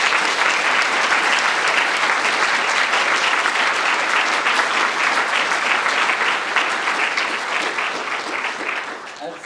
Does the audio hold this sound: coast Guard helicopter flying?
no